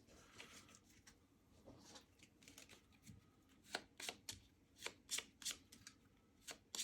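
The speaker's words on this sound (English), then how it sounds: "let's shuffle his deck here" A deck of cards is shuffled during a solo tabletop game of Merchants Cove, giving soft riffling bursts and sharp snaps. The sounds are close and fairly quiet, with no talk over them.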